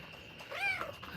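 A faint, brief meow rises and falls once, a small chirpy cat sound over quiet room noise.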